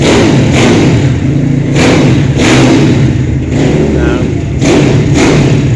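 A Ducati racing motorcycle engine at a mechanic's shop in Kuwait, loud and close, rumbles steadily with several sharp throttle blips and revving surges, and voices talk beneath it.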